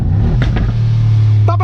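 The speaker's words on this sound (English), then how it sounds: "I just love to play with the sound, you know. Downshift." Brabus G900 engine (2023 Mercedes G-Class based, Superblack) rumbling close with a deep steady low drone, briefly interrupted by a couple of sharp exhaust pops around a downshift, with a short voice burst near the end.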